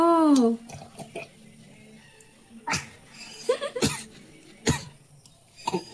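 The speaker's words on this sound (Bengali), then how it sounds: "খেতে খেতে কাশি উঠে গেছে।" A voice briefly, then several short, close coughs from a child eating, spaced a second or so apart, with faint clatter between them.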